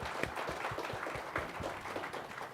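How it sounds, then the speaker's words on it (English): Faint applause from a conference audience, a scattered patter of clapping hands continuing steadily throughout. "give yourself a round of applause"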